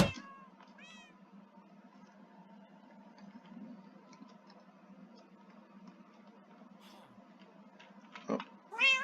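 Cats in the video game Minecraft let out a few short meows at the start and again near the end, with a quiet low hum and faint game sounds in between.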